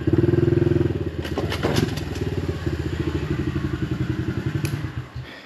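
A 2024 Honda CRF110F dirt bike engine being ridden, with a small power wheelie. The single-cylinder engine throbs loudly and steadily, its exhaust pulsing fast as it revs and then eases off near the end. No one speaks.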